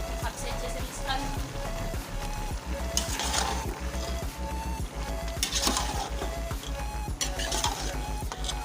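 Beef and cauliflower curry is stirred in a hot pan, with a spoon scraping and clattering over a constant loud sizzle, and a voice speaking at times.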